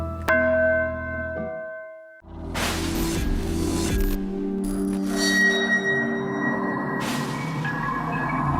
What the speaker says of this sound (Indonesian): Di dalam keheningan malam, terdengar suara lonceng.